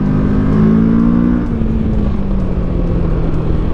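A motorcycle pulling away and accelerating, its engine note rising steadily in pitch then easing back, close and loud over road and wind noise, with no voices.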